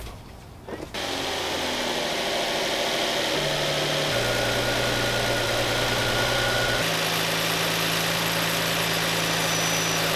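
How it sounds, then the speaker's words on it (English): An Infiniti G35 engine cranks and catches after a belt replacement, then settles into a steady, loud idle with a faint whine, its pitch stepping slightly as the idle settles; no squeal or speech is heard. "So now we're gonna go ahead and turn on the car and check for any squealing, any noise, anything looking weird on the engine bay."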